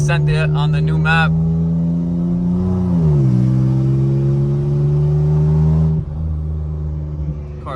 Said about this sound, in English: Car sounds crazy right now.